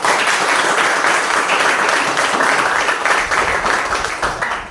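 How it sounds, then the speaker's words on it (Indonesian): Sustained applause from an audience at a teacher-training performance exam session, dense steady clapping filling the whole stretch and tapering slightly at the end. "Berikan dulu aplaus untuk kita semua."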